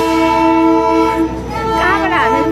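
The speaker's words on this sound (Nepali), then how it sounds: "दार्जिलिङको टोय ट्रेन" Darjeeling toy train near Kurseong sounding its horn: a loud, steady, sustained horn tone, close by, lasting the whole moment, with a wavering rise in pitch toward the end.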